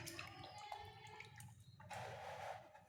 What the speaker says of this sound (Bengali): যেখানে গামলার মধ্যে জল নিয়েছি জলের মধ্যে ছুটিয়ে দেবো